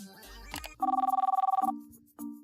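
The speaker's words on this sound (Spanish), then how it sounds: "Le llamaré a Tlali" A telephone rings in a single clear burst of rapid electronic trills while a call is being placed, fairly loud, followed by a short tone and no talking.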